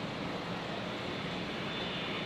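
A Singapore Airlines airliner on final approach at Brisbane International Airport produces a steady, broad, distant engine roar that holds evenly for a couple of seconds without speech.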